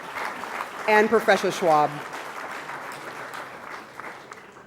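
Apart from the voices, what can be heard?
audience applause at summit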